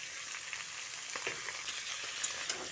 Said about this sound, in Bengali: এইভাবে তেলে সমস্ত সবজিগুলো ভালো করে ভেজে নিতে হবে